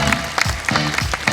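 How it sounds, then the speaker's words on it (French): Brief audience applause at a vintage car event, a broad steady patter of clapping heard under a voice speaking over it. "et vous pouvez les applaudir, ils sont superbes."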